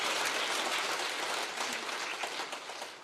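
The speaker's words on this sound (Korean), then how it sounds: "하나님께 영광의 박수" Church congregation applauding together in a dense, steady wash of clapping that fills the room from start to finish, fading slightly at the end.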